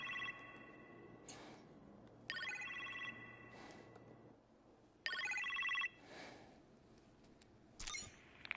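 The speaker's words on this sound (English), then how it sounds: "You appear to have a phone call in the kitchen" A telephone rings in bursts inside a PS4 video game's kitchen setting, the shrill electronic trills coming in several separate rings with short pauses between them, fairly clear over a quiet ambient backdrop.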